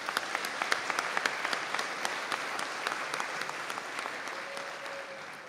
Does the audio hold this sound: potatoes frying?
no